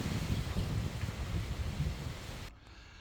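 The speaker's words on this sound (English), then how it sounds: "it's still very windy" Strong, gusty wind roars steadily around the roof of a cottage under renovation, blustery and close to the microphone, before cutting off near the end.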